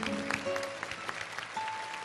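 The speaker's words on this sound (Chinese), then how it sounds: "为你们点赞、鼓掌" Audience applause fills a children's television studio show, a steady wash of clapping at moderate loudness with faint tonal sounds behind it and no talk.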